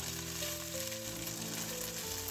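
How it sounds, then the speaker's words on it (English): Soft, steady sizzling of shrimp pan frying, low and continuous, with a faint hum underneath. "Pan fry the shrimp for about 1 minute until one side is golden"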